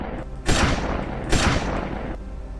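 Two loud, booming sniper rifle shots from a video game fire about a second apart, each followed by a long rumbling tail, over steady background game noise.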